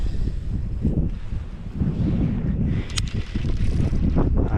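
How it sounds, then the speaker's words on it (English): Wind gusts across open water on a bass-fishing outing, a steady rushing buffet with uneven swells, close to the microphone and heard alone without talk. "There's a little wind coming through."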